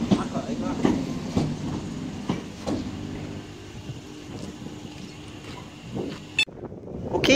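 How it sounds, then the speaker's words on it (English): A Pendolino train passes through Carstairs station, rumbling and clattering with rhythmic wheel knocks over rails, fairly near, as people talk quietly nearby; the sound cuts off abruptly near the end. "passing through now is going to be a Pendolino from Glasgow Central to London Euston"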